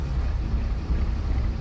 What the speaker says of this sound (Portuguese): Os motores a diesel ganham vida.